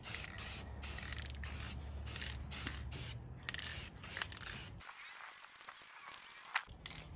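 Spray paint from an aerosol can hisses onto car wheels outdoors in hot Phoenix weather, first in a quick run of short bursts, then in one longer steady spray, close and alone.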